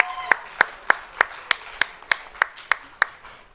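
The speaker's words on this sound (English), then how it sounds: "give a round of applause to you in the audience, family, friends, and alumni" Clapping at a 2019 community college communication awards ceremony: about a dozen sharp, evenly spaced claps in a steady rhythm, fairly close and clear, with little other sound beneath.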